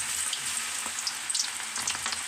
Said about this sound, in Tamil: இது ஃப்ரை பண்ணிக்கலாம் கொஞ்சம் கொஞ்சமாக போட்டு